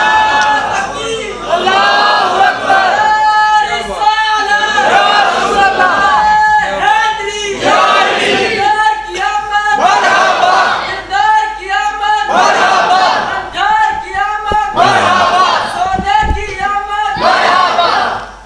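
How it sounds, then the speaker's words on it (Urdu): A crowd of boys chants religious slogans together at a gathering, loud and sustained with rhythmic rising and falling shouts throughout, some voices cheering over the mass. "میں جدو یہ بچے نو ویکھدا نا یہ نعرے لاندے ہیں"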